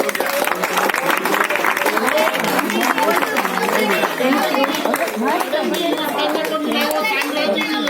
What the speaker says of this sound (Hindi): तो लेडीज के लिए भी जरा जोरदार ताली हो